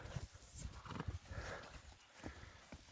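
A young working draft stallion moving near the listener: soft irregular hoof clops and shuffling on the ground with faint snorting, fairly close and moderately quiet outdoors.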